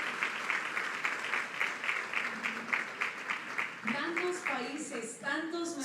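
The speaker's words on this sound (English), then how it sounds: "Big round of applause for these results." Rhythmic clapping from an audience at a corporate sustainability report presentation, rising in regular beats under music, with a sung voice entering near the end.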